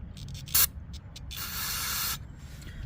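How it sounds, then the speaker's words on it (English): Starting fluid from an aerosol can is sprayed into a lawn mower carburetor in a short burst, then in a longer steady hiss lasting about a second, heard close up with no talking. "go ahead and spray some in there"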